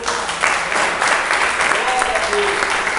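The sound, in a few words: congregation applauding in church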